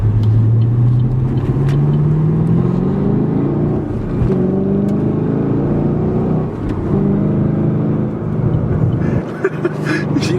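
A track-focused Chevrolet Camaro's engine accelerates with a loud, continuous roar, its pitch climbing and settling through several pulls with no talking.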